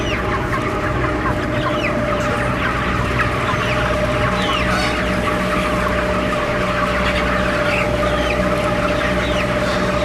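Chickens in a chicken run, many birds clucking and squawking continuously at close range over a steady background hum.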